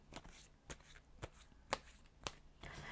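Tarot cards being shuffled by hand during a reading, a quick series of soft riffling snaps and taps about half a second apart, close and quiet with no talking.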